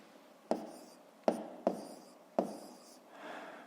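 Numbers handwritten for a fifth-grade math exercise: four sharp taps of pen on paper, each followed by a short scratching stroke, spaced irregularly at close range, with a soft rub at the end.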